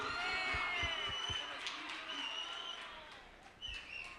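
Audience applause for a singer at the Joy of Jazz festival's Jazz for Young People show, a steady wash of clapping with scattered cheers that holds through the whole stretch without talk.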